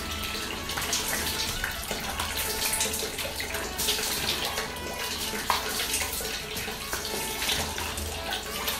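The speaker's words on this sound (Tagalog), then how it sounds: "Banlawan ulit ng water." Tap water runs steadily into a sink while the face is rinsed during a night skincare routine, a continuous close splashing hiss with no talk.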